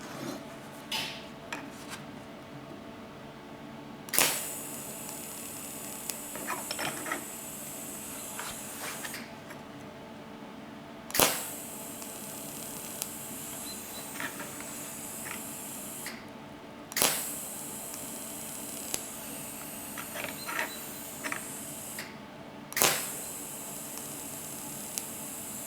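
Tack welding a 16mm bushing onto a vintage 1900s Drummond lathe: four separate bursts of harsh crackling hiss, each starting sharply and dying away, over a steady low workshop hum.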